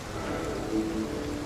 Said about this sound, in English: the fact that it's raining, the fact that it's foggy